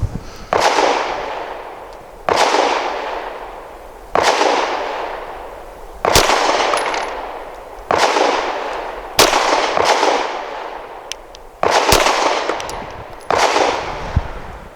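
Pistol shots from an EAA Girsan MC28SA fitted with an optic, firing Winchester ammunition: eight loud, sharp reports spaced roughly two seconds apart, each ringing out briefly, with no talking.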